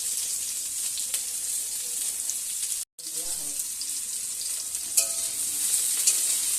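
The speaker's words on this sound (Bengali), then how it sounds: "যেখানে ফুলকপি, বিনস আর গাজর একসঙ্গে ভেজে নেওয়া হচ্ছে।" Cauliflower, beans and carrots fry together in a pan with a steady, close hiss of sizzling oil. A brief cut drops the sound out partway through, and light clinks of stirring appear near the end.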